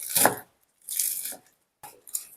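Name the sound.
chopping spinach with a knife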